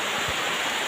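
Water pours steadily from a makeshift spout in a forest during heavy rain, a continuous broadband rush with no break across the short moment.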